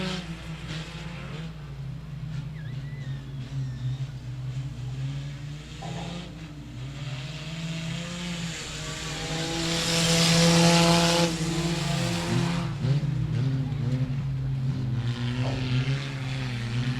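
Race cars circling 67 Speedway of Texarkana, a continuous loud engine drone with rising and falling revs as the field passes, swelling louder near the middle before easing slightly.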